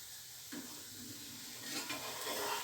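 Katmer dough frying in a pan gives a soft, steady sizzle with a few stirring and scraping touches, close by and fairly quiet.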